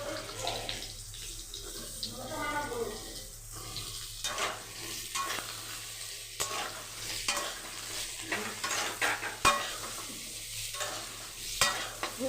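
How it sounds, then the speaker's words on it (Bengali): Potato and pointed gourd frying in oil in a pan, a steady sizzle broken by repeated scraping stirs of a spatula, with brief splashes of running water from a tap. "এবার আমি পটলটাও দিয়ে দেবো, তাহলে পটল আর আলুটা একসঙ্গেই ভাজা হয়ে যাবে আমার।"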